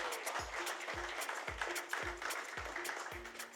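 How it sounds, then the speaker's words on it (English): Audience applause at a research report launch event, a steady broadband wash of clapping that fills the room at moderate level, with faint voices mixed underneath. "Can we have a huge round of applause for Navya?"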